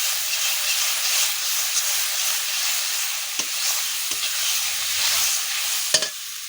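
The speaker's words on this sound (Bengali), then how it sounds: "নুন হলুদ দিয়ে ভালো করে কষিয়ে নেব" Fish sautéing in a pan with salt and turmeric, a steady hissing sizzle throughout with occasional sharp stirring clinks, close and alone without voices.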